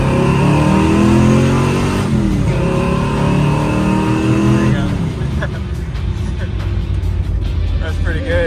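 A car fitted with a 572 crate big-block engine is driven hard, its loud engine roaring and rising in pitch through acceleration, then dropping as the revs fall and settle into a rumbling drive.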